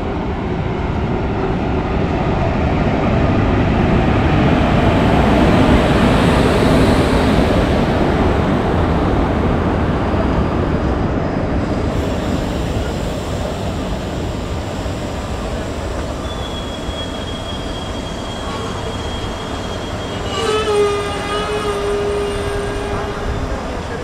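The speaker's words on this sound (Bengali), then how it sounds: "এখানে আরো একটা ট্রেন চলে আসছে" A train pulls into Plassey railway station with a loud, steady rumble of wagons and wheels that lasts throughout, and a high metallic wheel squeal rises near the end.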